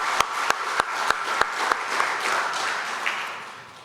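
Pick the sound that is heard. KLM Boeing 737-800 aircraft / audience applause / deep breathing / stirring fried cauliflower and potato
audience applause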